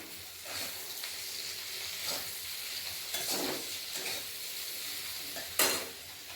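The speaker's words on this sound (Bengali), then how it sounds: "এখানে ভাজা করছি এখনও" Food fries in a pan with a steady sizzle while a utensil stirs and scrapes it in several distinct strokes, close and alone with no talk.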